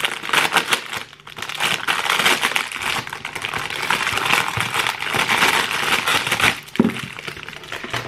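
Paper crinkles and rustles almost continuously while a parcel holding a large kit is unpacked, close and fairly loud, with a couple of brief pauses and a sharp crackle near the end.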